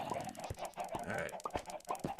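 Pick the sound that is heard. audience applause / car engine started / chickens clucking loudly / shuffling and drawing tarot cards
chickens clucking loudly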